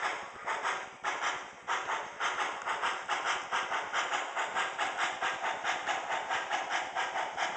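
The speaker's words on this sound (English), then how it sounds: "you're going to hear the chuffing sound" An MTH HO scale Union Pacific Challenger 3985 model steam locomotive with DCC sound runs in reverse, giving a rapid, steady, even chuff layered over a constant hiss. It is close and loud, with no talking.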